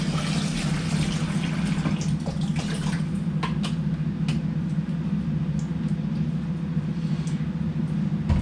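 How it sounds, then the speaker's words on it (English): Water runs steadily into a bottle as it is filled, a continuous soft rushing flow over a low steady hum, close by, with no voices. "we're gonna fill up my bottle of water"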